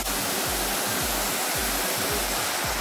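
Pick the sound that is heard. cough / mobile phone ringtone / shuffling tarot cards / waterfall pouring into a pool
waterfall pouring into a pool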